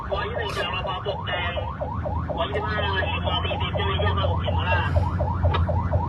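Ambulance and rescue vehicle sirens sound at a road accident near Soi 6 Khemmarat in Pluak Daeng, with loud repeated rising-and-falling wails cycling rapidly and continuously over low traffic rumble.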